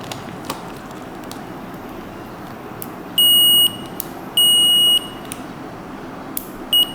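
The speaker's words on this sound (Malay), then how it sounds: "apa yang kita perlu ialah multimeter, dan kita setkan kepada bunyi beep" A multimeter set to continuity mode, used while wiring an autogate, gives three high electronic beeps: two steady tones of about half a second each and a brief final chirp, heard over a constant low hiss.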